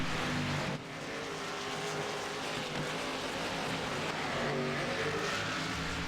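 Race car engines in iRacing on a roval course, a loud continuous roar with sustained high revs and a brief dip near the start, steady and close throughout.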